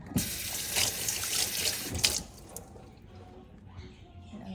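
Kitchen tap running into a sink during dishwashing, a bright splashing water stream for about two seconds, then cutting off and leaving quieter clatter and faint room noise.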